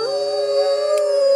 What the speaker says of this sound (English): the powerful sound of a pack howling in chorus